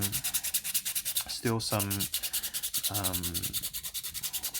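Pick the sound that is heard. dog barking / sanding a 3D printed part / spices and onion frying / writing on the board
sanding a 3D printed part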